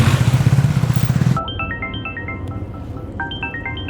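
A mobile phone ringtone plays a bright repeating electronic melody, starting right after a loud rattling motorcycle engine cuts off, then pausing and starting again.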